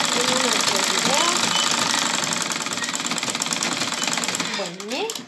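Sewing machine running continuously as it stitches a seam closed on a corte (woven skirt fabric), a steady fast mechanical whir close by, with someone speaking over it and brief louder speech near the end.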